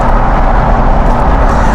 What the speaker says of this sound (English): I definitely get that with the throttle and the noise the throttle makes